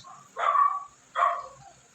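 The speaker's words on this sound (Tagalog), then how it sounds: "Ang ingay ng aso dito" Two sharp dog barks, a moment apart, from a dog at moderate distance, with a faint steady hum underneath.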